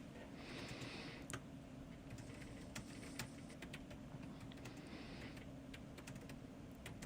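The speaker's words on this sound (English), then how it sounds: "we can hear you typing every now and again." Soft, irregular keyboard typing clicks scattered over a steady background hiss, faint and somewhat distant, with occasional sharper taps.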